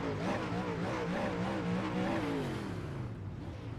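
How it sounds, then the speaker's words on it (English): UMP modified dirt race car engine revving hard before a feature, a loud, rough, wavering roar that rises and falls under heavy crowd and track noise, fading slightly at the end. "Somebody's trying to blow a motor up."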